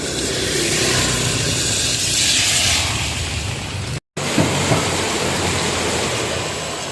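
Heavy monsoon rain pours down in Mumbai as a steady, loud broadband wash that fills the scene, broken by a brief dropout midway before the downpour resumes unchanged.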